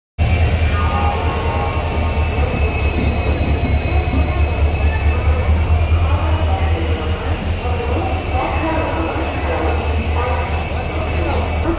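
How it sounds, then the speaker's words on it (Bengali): Train 12813 Steel Express at Howrah station, with a loud, steady rumble of railcars and high metallic wheel squeal carrying on without a break, under a faint hum of platform crowd noise. "হাওড়া স্টেশনে আমরা যে ট্রেন ধরবো 12813 স্টিল এক্সপ্রেস দিয়ে দিয়েছে।"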